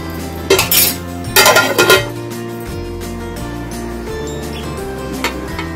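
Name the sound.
lid and water placed on cooking pot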